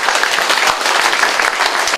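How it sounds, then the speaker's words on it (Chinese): Dense, steady applause from a seminar audience at a Chinese public-speaking training session, loud and continuous for about two seconds before stopping abruptly. "要不要给自己热烈掌声鼓励一下"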